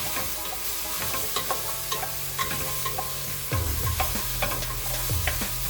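Sweet potatoes cooking in a pan for soup, frying with a steady close sizzle and occasional stirring scrapes and clicks, the hiss swelling louder near the end, with no one talking.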